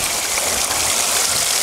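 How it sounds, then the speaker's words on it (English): Water flowing out of the top of a Bluebowl gold concentrator while gold concentrates are processed, a loud, steady, close gush and splash with no talking. "And the water coming out of the top"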